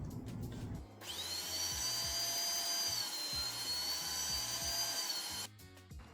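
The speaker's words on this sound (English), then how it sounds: "just grind it one more time to mix the fat in a little bit better" An old meat grinder double-grinding venison mixed with fat runs for about four and a half seconds as a loud, steady high-pitched motor whine with a rhythmic low chugging beneath, starting and stopping abruptly.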